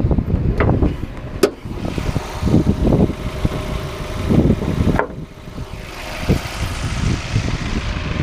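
A Mazda MX-5 NB with its 1.6-litre 16-valve, 110-horsepower engine runs steadily, a loud close idle with a few sharp clicks and bumps over the drone and no talking.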